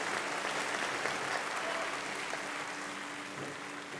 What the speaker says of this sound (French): On l'applaudit pour leur accompagner.